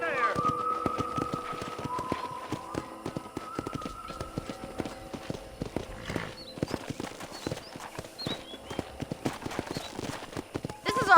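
Horses at a ranch corral in the video game Red Dead Redemption: repeated hoof clip-clops on hard ground, moving near and at varying pace, with occasional whinnies and faint tonal background sound throughout.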